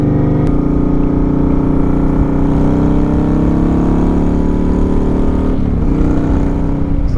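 A 2009 Kawasaki Vulcan 900 motorcycle idles with a deep, steady exhaust rumble, loud and close, holding an even throb with a brief dip near the end.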